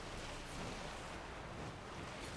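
Steady wash of sea waves and surf with wind in the Witcher 3 game world, a broad continuous noise at low volume with no talk over it.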